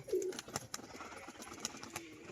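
Domestic pigeons, including a green male, coo softly and faintly at close range, with light rustling and shuffling sounds in between.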